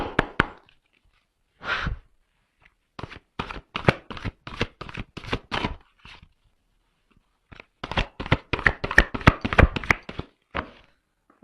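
Large oracle cards, nearly hand-sized, are shuffled by hand in bursts of quick, crisp riffling taps and slaps, close and clear, separated by short pauses.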